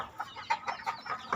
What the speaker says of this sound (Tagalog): Ito naman sa baba yung ating manukan.